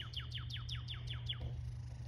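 A red cardinal gives a quick run of about seven sharp, descending chirps in an even rhythm, faint and slightly distant over a low steady background hum.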